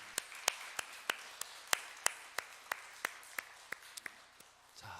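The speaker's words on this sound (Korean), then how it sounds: "인도해 주신 하나님 앞에 영광의 박수를 올려드리겠습니다" Steady, evenly spaced claps ring out in a church, a faint rhythmic clapping by the congregation that slows toward the end.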